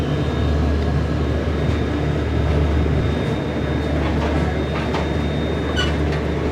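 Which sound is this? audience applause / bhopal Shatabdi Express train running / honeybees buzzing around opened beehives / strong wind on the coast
bhopal Shatabdi Express train running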